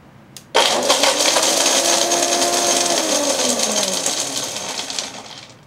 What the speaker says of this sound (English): I'm going to put Parmesan cheese, high speed, maybe 2-3 seconds, grate it to a fine powder.